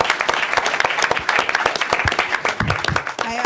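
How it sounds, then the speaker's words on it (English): An audience claps at a memorial lecture, a loud, close patter of many hands in continuous applause, briefly uneven near the end as a voice starts to come through. "So let's give them all a round of applause."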